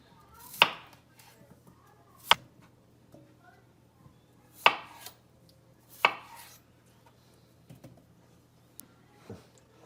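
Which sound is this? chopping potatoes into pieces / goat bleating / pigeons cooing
chopping potatoes into pieces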